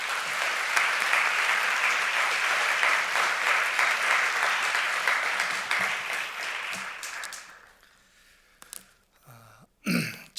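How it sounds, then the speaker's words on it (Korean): Congregation at a university chapel service gives warm, sustained applause that fades out after about seven seconds, followed by a few scattered coughs and throat clearing in a quieter room. "나오실 때 여러분 환영의 의미로 큰 박수로 환영해 주시기 바랍니다"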